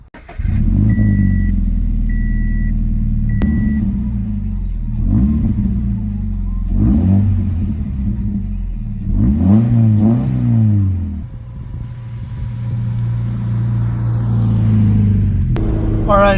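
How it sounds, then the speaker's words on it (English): A 2013 Subaru BRZ Limited drives with its engine and exhaust audible from inside, giving a loud steady rumble that swells in several revving pulls through the gears, then settles to cruising drone. "we need to get the exhaust on this because it wouldn't be complete without that."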